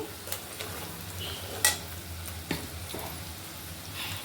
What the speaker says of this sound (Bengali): এখন একটু ভালোভাবে নাড়িয়ে চাড়িয়ে দিচ্ছি